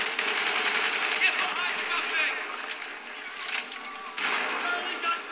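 Rapid explosive gunfire and blasts from a grenade launcher during a Battlefield Bad Company 2 Vietnam rush match, dense and continuous, with a brief lull before the firing picks back up.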